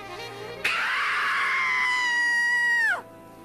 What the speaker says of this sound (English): when you call 1-899-OH-RHONDA and ask for me on the scream line, I'll scream like this